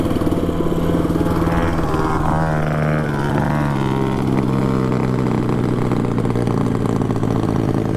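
A 224cc Harbor Freight Predator engine on a mini bike runs steadily nearby, a loud, even idle with a brief rise and fall in pitch partway through.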